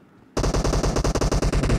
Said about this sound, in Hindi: गोली चल रही